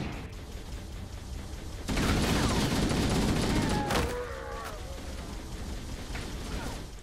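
Turret gunfire in Halo: Combat Evolved, a dense burst of loud rapid shots lasting about two seconds, followed by sliding metallic whines and quieter scattered shots under steady battle noise.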